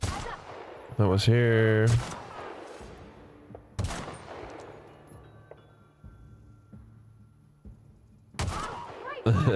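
Sniper rifle shots in the video game The Outer Worlds: three sharp, loud cracks spaced several seconds apart, each with a decaying tail, alongside a brief voiced game sound and a short spoken line.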